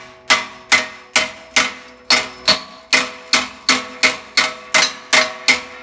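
A hammer taps a metal sheet clamped onto a steel I-beam section, folding it toward a 90-degree bend: about fourteen sharp, ringing metallic strikes at a steady, even pace, close and loud with no talking.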